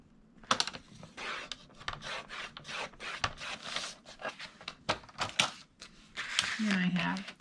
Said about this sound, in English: So I'm just trimming down my 4x4 pieces.